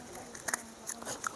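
Fried masala country crab gets bitten into up close, giving a few sharp crunching cracks of shell amid soft chewing, quiet and brief.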